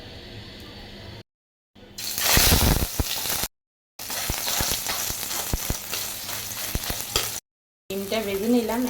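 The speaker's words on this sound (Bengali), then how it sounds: "প্রথমে মাছের ডিমটা ভেজে নেব।" Hilsa fish roe sizzles and spits in hot oil, a loud steady fry with crackling bursts and brief stirring scrapes, broken by short silent gaps.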